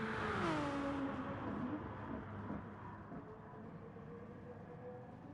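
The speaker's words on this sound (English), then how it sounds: "You can see Bright Spark there really revving the guts out of the Jaguar" A Jaguar race car's engine revving hard in a Gran Turismo Sport league race, a loud whine that rises and falls as it pulls away, then fades into a steady distant drone.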